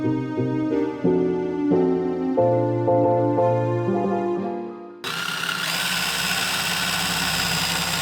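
Steady tonal notes give way to a drill boring a hole in the back of a car named Luna. The harsh, loud, continuous whir begins suddenly and runs to the end.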